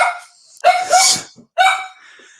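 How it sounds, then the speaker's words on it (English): A pet dog gives two sharp, loud barks close by with a short whimpering yip between them, nearby and with no talk over them. "Sorry, my dog is being a little crazy."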